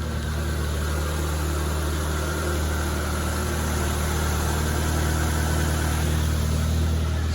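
A car engine, just brought back to running order after repair, idles steadily with a constant low rumble and hum, close and loud throughout, with no voices.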